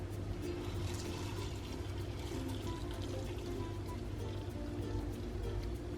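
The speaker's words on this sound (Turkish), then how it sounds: "Şimdi bunun üzerine böyle üzerine geçecek kadar su ekleyeceğim." Water is poured over rolled oats in a pot for oatmeal, giving a soft, steady, faint splashing trickle that continues without pause.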